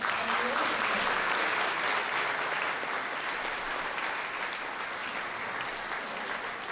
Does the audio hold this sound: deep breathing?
no